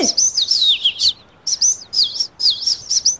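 A small bird chirping close and loud in repeated rapid bursts of high, bright tweets with short pauses between phrases, no one speaking.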